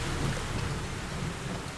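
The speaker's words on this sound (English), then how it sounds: "As heavy rain began to fall" Heavy rain pours in a dense steady roar with low thunder rumbling beneath, a loud continuous storm wash with no voices.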